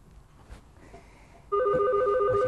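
After a second and a half of quiet room tone, an electronic telephone ringtone starts abruptly and rings loudly and steadily in a repeating trill to the end.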